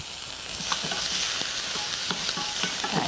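Paprika stir-fried with a little garlic oil and salt in a pan: a steady, loud sizzle with intermittent scrapes and clicks of a utensil stirring, no voices.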